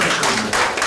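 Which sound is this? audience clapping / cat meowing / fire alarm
audience clapping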